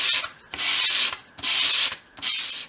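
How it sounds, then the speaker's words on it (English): A small wooden piece is swept across sandpaper at a 45-degree angle to form a bevel, making three loud, rhythmic rasping strokes with brief pauses between them, close and alone. "with the piece at a 45-degree angle against your sandpaper, sweep it towards you, keeping it at that angle"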